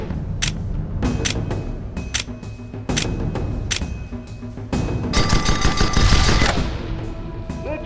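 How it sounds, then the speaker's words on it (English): Rapid bursts of gunfire hammer a target dummy's hull in the airship combat game Guns of Icarus, loud and close, with a denser volley in the second half and no talking. "Shoot at that target dummy's hull till it breaks."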